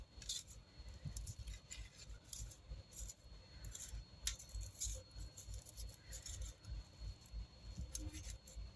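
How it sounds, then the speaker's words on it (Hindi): A knife trims the crusts from slices of bread, producing soft, repeated crunchy cuts and small clicks close by, quiet and irregular over faint room noise. "एक ब्रेड मैं ले ली हूँ और इसके चारों तरफ का जो भाग है उसे पहले हमें काट के निकाल लेनी है"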